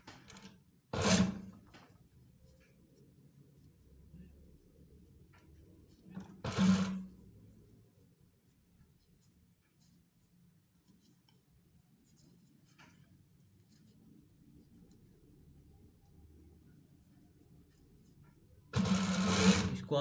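A sewing machine stitches along the edge of a double-folded fabric strip for police uniform trousers. A low steady hum is broken by three short, louder bursts.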